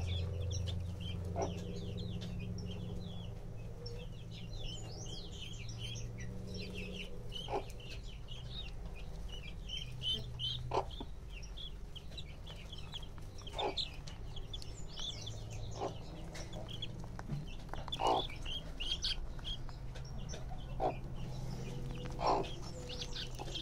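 Mother hen tending newly hatched chicks, low steady clucking with a constant chorus of high chick peeps, faint and continuous, with a few sharper calls scattered throughout.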